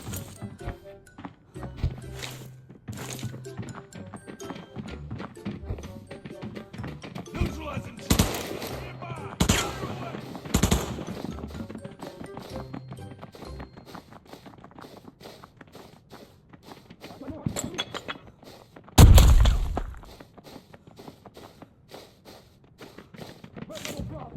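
Gunfire in a shooting video game, with scattered single shots and short bursts across the scene, one louder close blast near the end, and a voice talking over much of it.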